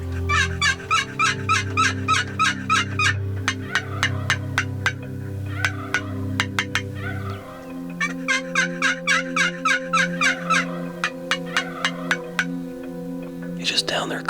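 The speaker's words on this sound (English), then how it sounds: "He's just down there gobbling his head off." Wild turkey tom gobbling at a distance in the woods, repeated rattling gobble bursts in two long runs, heard alongside a low humming drone and other bird calls.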